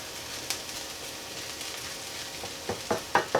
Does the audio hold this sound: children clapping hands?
no